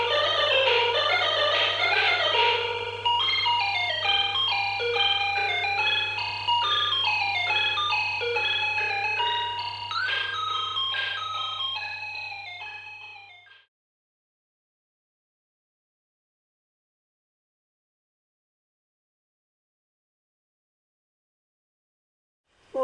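A bright, bleepy 8-bit tune from a BBC Micro computer, with quick chiptune melody lines over a steady low drone, plays alone for about thirteen seconds before cutting to silence.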